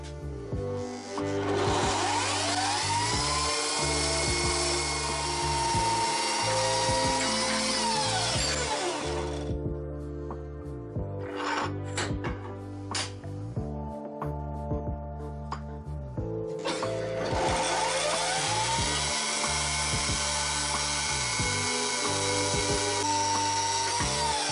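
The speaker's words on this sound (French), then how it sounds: "Moi je vais utiliser ma scie à ruban" A band saw whines steadily through wood in two long cutting passes, with a brief lull of clanks and knocks between them, loud and close.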